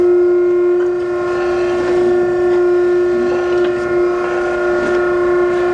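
The hydraulic table of an Okamoto 12 x 24 inch high-precision surface grinder moves back and forth, giving off a loud, steady tonal hum with faint mechanical shuffling underneath.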